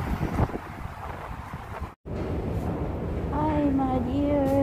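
Steady wind buffeting a microphone outdoors, a loud low rumble that drops out briefly then returns stronger, with a faint whistling tone near the end.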